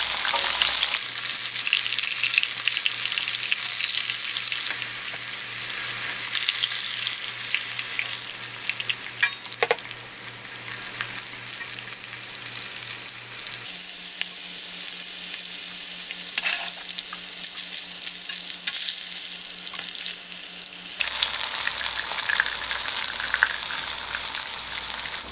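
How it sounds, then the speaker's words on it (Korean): Hot oil sizzles and crackles steadily as pork deep-fries over high heat for sweet and sour pork, a bright continuous hiss with occasional pops, close up and persistent. "너무 약하게 하니까 바삭하게 빨리 안 튀겨져서 제가 조금 세게 했습니다."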